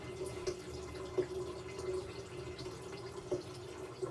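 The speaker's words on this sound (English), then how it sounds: "now I'm letting it fill up with cold water." Cold water runs steadily into a container being filled for kombucha tea, a soft continuous trickle with occasional light splashes and drips, fairly quiet with no talking.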